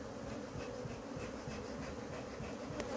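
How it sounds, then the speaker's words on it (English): Honey bees buzz steadily during a removal from a drawer, a dense continuous hum of many insects close by with no talk. "So let's try to get these bees to come over."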